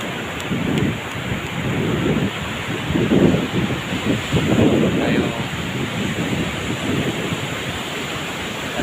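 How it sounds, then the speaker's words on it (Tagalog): Big waves break and surge repeatedly on a shore, a rough continuous roar with swelling crashes and wind buffeting the microphone. "laki na talaga ng mga alon guys"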